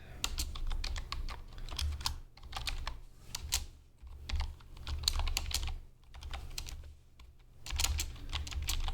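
JavaScript code typed on a computer keyboard in quick bursts of close, crisp key clicks, pausing briefly between runs, with no voices.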